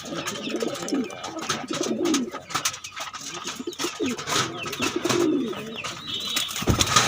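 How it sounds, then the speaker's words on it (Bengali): Male pigeons coo in repeated low, throaty, rolling phrases through the loft, with fainter bird sounds and shuffling around them; no one speaks. "এগুলো নর কবুতর"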